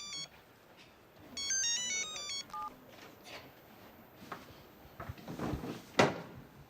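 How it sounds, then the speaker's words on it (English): A phone sounds a short burst of electronic ringtone tones, followed by soft clattering and handling noises nearby. "I know you know it is a phone. But it is ringing"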